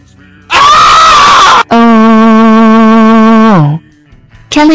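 Woman screaming loudly at close range, one shrill burst, then a long sustained scream that slides downward and breaks off, with the start of another at the end.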